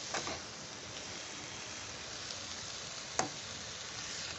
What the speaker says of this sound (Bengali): এইবার আমি নাড়িয়ে নিচ্ছি চিনি তো আগেই দেয়া আছে এইবার আমি ধীরে ধীরে এটাকে কষে একটা হালকা পাকের মতো আসবে